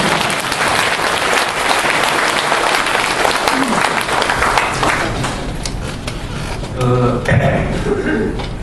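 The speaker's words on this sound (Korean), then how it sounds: "이쯤에서 박수 한번 나와주세요." Loud, dense applause from a lecture audience in Busan, filling the room continuously for several seconds before thinning out, with a few voices surfacing near the end.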